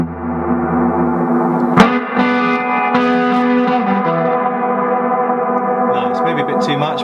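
Sustained electric guitar chords ringing out through a reverb pedal with heavy reverb, notes washing and trailing together with a spacious, echoing tail, fairly loud and alone.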